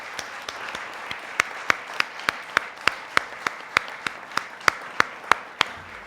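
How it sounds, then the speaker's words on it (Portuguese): An audience at a World Portuguese Language Day celebration claps, a thin, moderately distant round of applause built from sharp individual claps in a loose rhythm that tails off near the end. "Peço o vosso aplauso para o Patraquim e para a Dulce"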